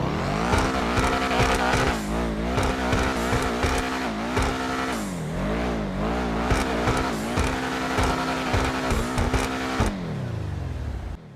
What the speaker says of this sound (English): let's listen to the rev.